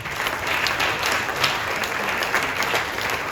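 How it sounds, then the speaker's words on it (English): An audience at a history lecture bursts into dense, sustained applause, a continuous wash of clapping with no pauses. "Let's clap for this man."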